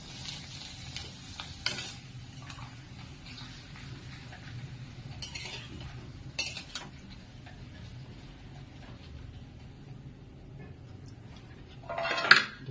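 Papad frying in hot oil, a quiet steady sizzle with occasional clinks of a utensil and a louder scrape of the pan near the end, with no talking.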